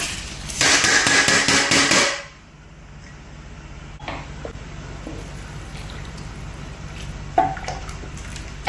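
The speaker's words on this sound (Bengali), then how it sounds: "এটা আমি চাউলটা ঢালে দেবো" Rice is tipped into a pot of boiling water for Pakistani chicken biryani, making a loud rushing splash for about one and a half seconds. Quieter bubbling and a few light clinks follow.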